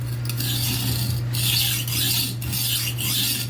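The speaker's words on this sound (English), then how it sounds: "And I'm going to sharpen this knife so it's made for kitchen use." Kitchen knife being sharpened, with steady, close, repeated rasping strokes of the blade, each stroke separated by a short pause, over a constant low electrical hum.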